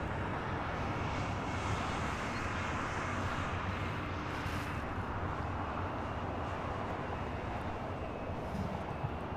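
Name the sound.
China Airlines Cargo Boeing 777 freighter taking off at LAX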